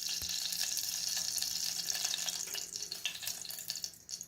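Ghee heating in a hot pressure cooker, a dense, steady hiss of sizzling fat close by that loosens into scattered crackles toward the end, with no voices.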